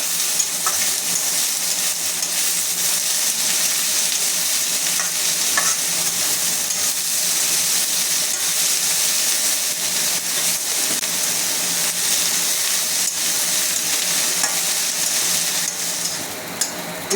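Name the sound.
onions sautéing in a pan for kanda poha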